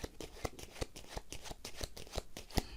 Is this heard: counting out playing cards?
yes